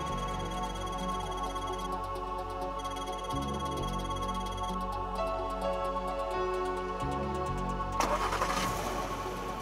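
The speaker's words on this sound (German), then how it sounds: "Schlüssel umdrehen, der Motor startet." A car engine cranks and catches, settling into a steady mid-pitched idle with some mechanical clatter, fairly close and continuous.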